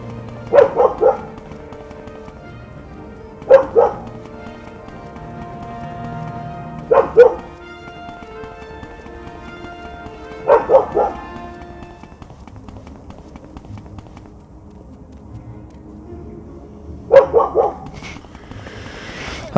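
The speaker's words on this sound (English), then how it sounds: "I have no fucking idea what is with this stupid dog." Dog barking in the Morrowind video game, five short clustered bursts of two or three barks each, spaced a few seconds apart, loud and close over a low steady game ambience.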